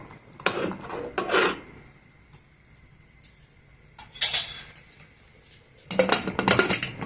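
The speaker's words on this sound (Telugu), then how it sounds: "మూతని పెట్టేద్దాము." Several scraping metallic rasps and clanks as a lid is fitted and twisted onto a pressure cooker, in short bursts separated by quiet.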